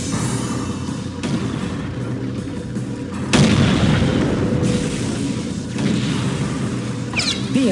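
A vehicle blowing up in Unreal Tournament 2004, a heavy booming blast with rumbling debris amid continuous loud battle noise and repeated heavy impacts.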